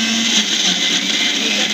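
A kitchen blender whirs steadily at high speed, pureeing boiled banana flower into a paste; the motor is loud and close throughout the short burst, with no talk.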